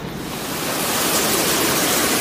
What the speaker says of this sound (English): we're down here by the falls, so the falls is really noisy